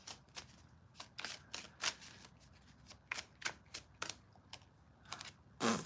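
Tarot cards are shuffled and drawn, making a series of crisp, quick snaps and riffles at an uneven rhythm. The sound is close but quiet, with no talking.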